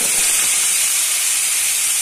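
Mango pieces dropped into hot oil with panch phoron and turmeric for a mango chutney, giving a steady, loud hiss of frying with no break over a short moment and no talking.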